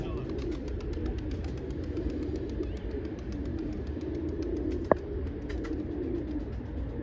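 A male pigeon coos with a low, soft, repeated murmur, heard under steady background noise, with one brief sharp click partway through.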